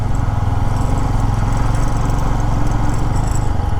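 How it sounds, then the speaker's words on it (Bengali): A motorcycle engine chugs steadily and loudly close by as it climbs uphill on a forest road, a continuous rumbling drone with no voices. "দেখো কতটা উঁচুতে আমি আমি বাইকটা রাইড করছি"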